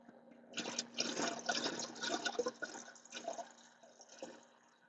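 Kerosene glugs and splashes unevenly while being poured into the fuel tank of a diesel heater in a camper van, a steady close liquid gurgle over about four seconds.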